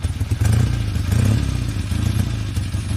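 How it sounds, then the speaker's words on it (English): A motorcycle engine running close by, a throaty rumble that swells in short surges with some clatter, heard alone. "It's a motorcycle and it's a vehicle."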